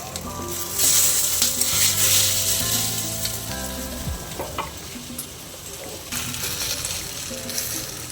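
Egg vegetable bread with carrot and capsicum fries in butter in a pan, a loud steady sizzle with bursts of scraping and stirring, over a faint background hum of tones.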